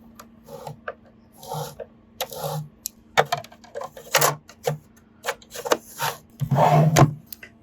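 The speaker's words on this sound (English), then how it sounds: "It'll be a lot easier to screw these guys in." Small screws are driven by hand into the plastic casing of an Xbox Series S during an HDMI port repair, giving close, scratchy rubbing and creaking twists in short irregular bursts over a faint steady hum.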